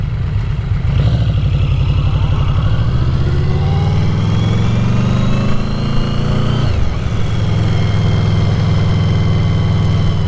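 A Yamaha VMAX 1700 motorcycle is ridden through a town center, with its engine note loud and close. It drones in a low register, rises as it accelerates, drops sharply when it shifts gear, then climbs again.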